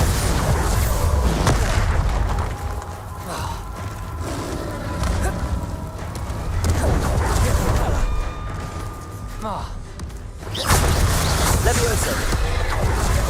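A Bombarda explosion spell from Hogwarts Legacy bursts with a loud, booming blast over dense game sounds, followed by a rumbling swell and a second heavy impact near the end.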